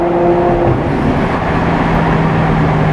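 A Maserati GranTurismo MC Stradale rumbles at low revs with a steady, close engine burble, heard from inside the moving car while it is still warming up, with no voices over it.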